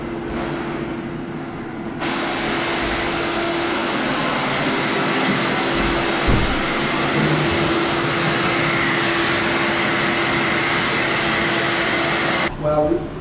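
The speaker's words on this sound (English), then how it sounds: "we're just gonna get some of these drain flies out of here with the vacuum" A vacuum cleaner starts up and runs loudly and steadily while sucking drain flies out of a bathroom, holding a constant roar before cutting off near the end.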